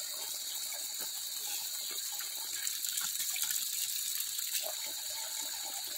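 Fresh mountain spring water flows steadily from a tap or pipe beside Anibawan Road in Burdeos, Quezon, making a continuous hissing gush with faint clatter, no talking.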